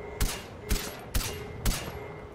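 Gunfire in the PC game Far Cry 4, set in the Himalayas: four sharp, evenly spaced shots about half a second apart, loud and close over a steady background hum.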